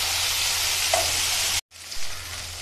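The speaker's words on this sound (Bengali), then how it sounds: "দুটো কাঁচা লঙ্কা চিরাও দিয়ে নিলাম আর টমেটোটা দিয়ে দিলাম, দিয়ে ভালো করে একটু নেড়ে ছেড়ে ভেজে নেব" Slit green chillies and tomato stirred and fried in a pan, giving a loud steady sizzle with occasional spatula scrapes, briefly cut by a short gap of silence.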